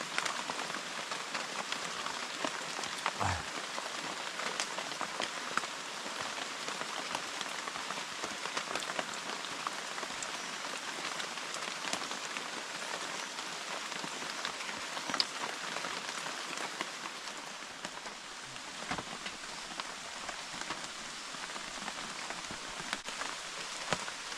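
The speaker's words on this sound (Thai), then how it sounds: "บนกระต๊อบในป่า ยามเช้ากลางสายฝนกับเราสองคนนะครับ" Steady rain pours onto a hut in the forest on a dark morning, a dense continuous hiss of drops with no voices over it.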